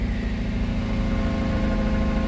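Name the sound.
car engine running through exhaust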